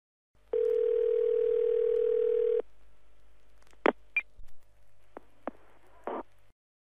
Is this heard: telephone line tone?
yes